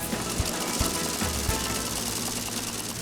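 A shoe-stitching machine sews a Goodyear welt shoe in a workshop in Leon, Mexico, giving a loud, steady, buzzing mechanical drone with rhythmic knocking pulses that carries on without pause.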